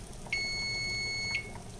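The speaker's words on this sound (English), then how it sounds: "Turn off the timer" A kitchen timer sounds one sustained, shrill electronic beep for about a second during turkey meatloaf cooking, ringing over faint low kitchen noise and then stopping abruptly.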